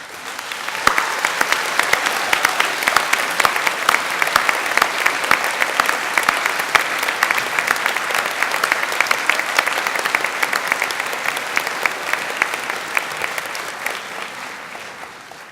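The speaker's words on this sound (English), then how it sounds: "let us give them a round of applause" Sustained applause from a large crowd at an Open University degree ceremony in Brighton, steady dense clapping filling the hall for about fifteen seconds without talk.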